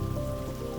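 Rain falls outside a stable in a dense, even patter that holds steady at moderate loudness with no voices.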